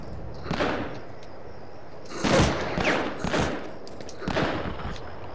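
Rifle fire in the World War II shooter Medal of Honor Underground comes as several separate bursts of shots, loud and close. Each burst rings out with some echo, and there is no talk over it.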